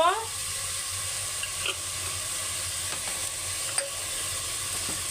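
Whole cumin seeds dropped into hot oil for a desi chicken curry, a steady soft sizzle and hiss with a few faint clinks of a spoon against the pan.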